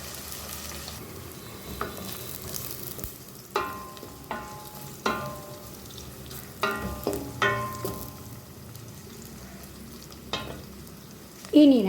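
Tomato, curd and masala spices fry in oil for thakkadi with a soft, constant sizzle. Spoon scrapes and taps on the pan break in from time to time, heard close and fairly quiet.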